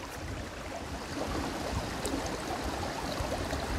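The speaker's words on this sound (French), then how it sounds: "j'aime bien me mettre sur le bord d'un petit ruisseau, un petit cours d'eau qui fait un bruit de fond" A small stream flowing steadily beside a rock-side campfire, with a continuous close, even rush and babble of water and no breaks or voices.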